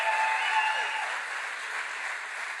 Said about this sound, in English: Give a round of applause for Bobby Charles.